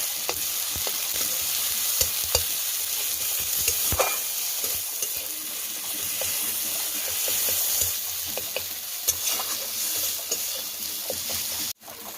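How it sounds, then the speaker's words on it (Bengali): Spice masala with turmeric frying in a pan for a crab curry, stirred steadily: a continuous close sizzle broken by frequent sharp scraping ticks of the spatula, with no talking. "দিয়ে ভালো করে মশলাটাকে একটু ভেজে নেব।"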